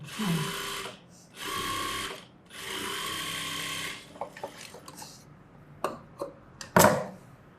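A sewing machine stitching gathered pants, with three long steady whirring runs, then a stretch of shorter stop-start bursts and clicks of fabric handling, close and fairly loud.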